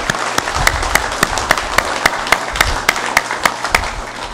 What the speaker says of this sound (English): May I ask that we give them a round of applause